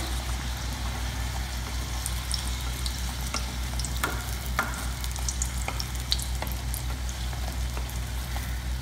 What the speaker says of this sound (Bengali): সিঙ্গারাগুলোকে আমি গোল্ডেন ব্রাউন করে ফ্রাই করে নেব